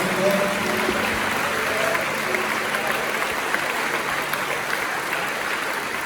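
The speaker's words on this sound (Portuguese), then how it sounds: "Aplauda ao Senhor, aplauda ao Senhor." A church congregation at a men's conference claps together in a sustained, dense burst of applause that stays steady for several seconds, filling the room without speech.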